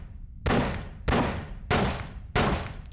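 Four heavy, evenly spaced gunshots in a GameCube shooting game, each a loud booming thud with a short decaying tail, close and with no talking over them.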